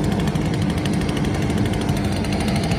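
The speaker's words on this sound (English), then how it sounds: "And that is a steel BG56 blower, just at an idle." A steel Stihl BG56 blower idles while feeding air into a 55-gallon steel drum fire barrel, giving a steady, loud, buzzing two-stroke drone mixed with roaring rushing air and fire, continuous and close without any speech.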